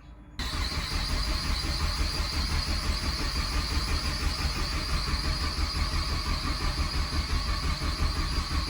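A car engine is primed and then fired up, catching abruptly after a moment of near silence and settling into a loud, steady, close running drone with no talk over it.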